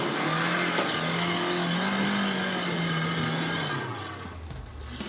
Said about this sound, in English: This is Peter Gundlach and Martin de Toy in a Suzuki Jimny.